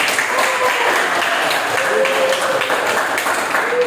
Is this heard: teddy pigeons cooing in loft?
no